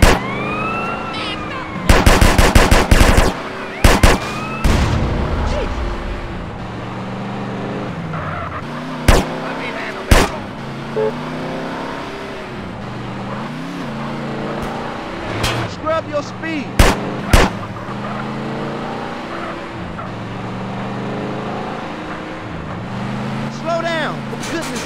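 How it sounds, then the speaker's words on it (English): Drive-by gunfire in GTA San Andreas from a BMW M5 E34, bursts of loud rapid shots mixed with a revving engine, screeching tires and in-game characters shouting over the chase. "I'm shooting at the damn blur, CJ."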